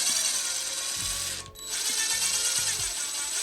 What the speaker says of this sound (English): these screws do go into plastic, guys, so nice and slow with the screw gun